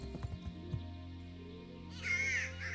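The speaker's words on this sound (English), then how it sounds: "Raven is a bird that sound like that." A raven in the video game Kingdom Come: Deliverance gives a loud, harsh caw near the end, rising over a steady hum of in-game ambience.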